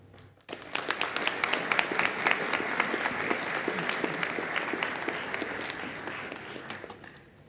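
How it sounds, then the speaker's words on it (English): An audience at a college presidential inauguration breaks into applause after a short quiet start, with sustained crisp clapping that tapers slightly toward the end. "Let's give Dr. Mojok one more round of applause."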